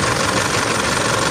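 An Isuzu engine runs at a steady idle after an oil filter change, a continuous close mechanical drone with no talk over it.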